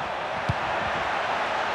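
Stadium crowd in the FIFA 23 football video game, a steady, dense roar of cheering and chanting from a large crowd, broad and constant throughout with a brief thump partway.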